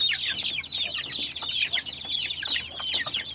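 A desi hen clucks while eating, with soft, rapid, irregular clucks and pecking sounds running continuously at close range, and no talk.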